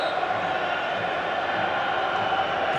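Football stadium crowd in the FIFA 15 video game during a Hartlepool versus Birmingham City league match, a steady loud roar of massed voices with faint chanting, continuous and even throughout.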